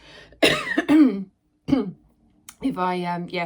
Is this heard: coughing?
yes